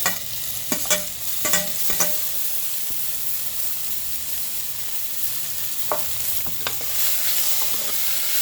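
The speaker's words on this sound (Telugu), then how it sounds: "కలుపుతూ బాగా ఫ్రై చేసుకోవాలి" Curry leaves, tamarind and tomatoes sizzle in a pan under constant frying hiss, with several distinct spoon scrapes and knocks against the pan early on and again toward the end.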